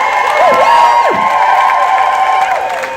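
A crowd at an abortion rights rally cheers and shouts for bill sponsors, sustained loud whoops and voices with some high shouts rising above the din for about three seconds.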